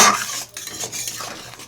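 Chopped okra tumbles into a cooking pan for an Orissa-style okra kuzhambu. A utensil clatters against the metal with scraping and stirring, loud and close. There is no talking.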